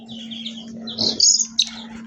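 Eight-day-old pet chick with a crooked neck chirping, a few thin, high peeps close by, over a steady low hum.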